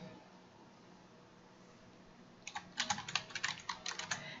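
A computer keyboard clicks through a quick burst of close, fairly quiet keystrokes as a video title is typed, starting after a couple of seconds of near silence.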